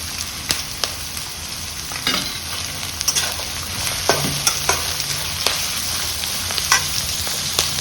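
Onions and fenugreek leaves fry in hot oil in a pan, giving a steady close sizzle broken by irregular scraping clicks of a spoon stirring, with no voices.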